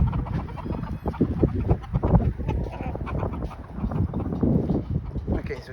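A flock of backyard chickens clucks and squabbles close by in a dense, continuous, fairly loud jumble of fowl calls, with a voice mixed in.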